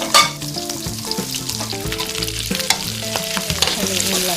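Garlic, ginger and onion sizzling loudly in oil for ginataang tulingan, a bright close crackle with clanking spoon-on-pan strokes throughout as they are stirred.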